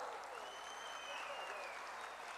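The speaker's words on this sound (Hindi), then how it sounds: "तो एक बार जोरदार अपने लिए ताली बजाना बनता है।" Steady, dense applause from an audience at a political speech in Himachal Pradesh fills the whole stretch, a continuous wash of clapping with faint voices mixed in.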